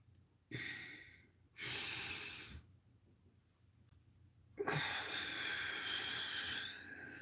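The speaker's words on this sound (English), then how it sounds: "Deep breath." A slow, deep breath taken during a live session: a long hissing inhale, then a longer drawn-out exhale, close and alone, with a short click between them.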